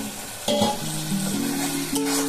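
Fried potatoes and pointed gourd being stirred into cooked masala in a pan, a steady sizzle with several clanking, scraping strokes of the spatula, close and without talking.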